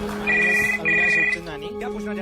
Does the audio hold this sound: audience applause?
no